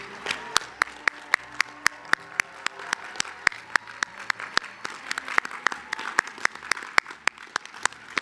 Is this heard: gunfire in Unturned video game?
no